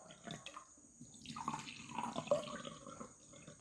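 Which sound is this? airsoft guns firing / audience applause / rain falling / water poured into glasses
water poured into glasses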